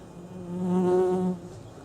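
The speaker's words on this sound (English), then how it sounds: "there just was a wasp that flew past" A wasp flies close past, its buzzing wingbeat swelling to a loud hum and then fading away within about a second, with no talk over it.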